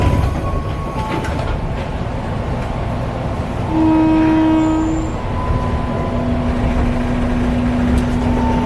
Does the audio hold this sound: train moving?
yes